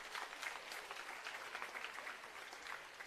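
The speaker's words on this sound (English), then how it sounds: "I think she requires a big hand of applause." Soft, distant audience applause at a graduation ceremony, a continuous patter of many hands clapping at low level for a few seconds with no voices over it.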